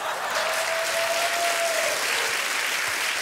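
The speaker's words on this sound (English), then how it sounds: "the people in the crowd are clapping" Audience in a crowd clapping steadily and loudly throughout, a dense sustained wash of applause with a brief faint tone partway through.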